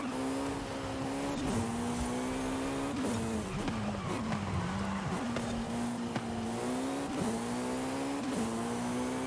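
A Jaguar C-X75 in Forza Horizon 5 powers out of a sequence of turns. A loud, close engine whine climbs and dips in pitch as the throttle comes on and off, with brief tire noise.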